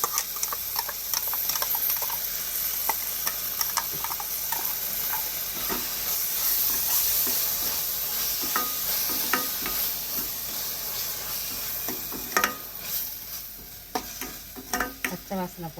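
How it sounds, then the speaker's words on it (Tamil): An onion, tomato and ginger-garlic paste sizzles and fries in a pan while being stirred, a steady close hiss broken by scraping and clinks of a spoon against the pan. "வெங்காயம் தக்காளி இஞ்சி பூண்டு பேஸ்ட்டாக நல்லா வதங்கிடுச்சு"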